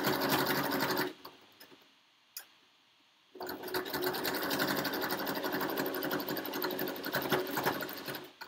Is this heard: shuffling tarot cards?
no